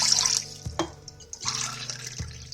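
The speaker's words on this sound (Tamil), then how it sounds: "ஒரு 2 டம்ளர் அளவுக்கு தண்ணி விட்டுக்கிறேன்." Two tumblers of water poured into a pan on a stove for turmeric milk, splashing and trickling in short bursts with gurgles and drips between, close and fairly loud, no talking.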